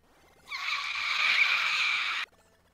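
A Metroid creature in the video game Metroid II: Return of Samus lets out a single shrill, sustained screech lasting under two seconds. It starts abruptly, holds loud and steady, then cuts off sharply.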